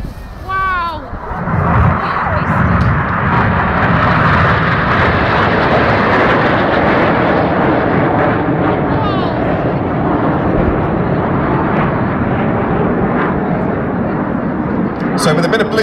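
Red Arrows jets run in at low level at the Perth airshow in Scotland, a loud sustained roar sweeping in and holding, with a commentator talking over it.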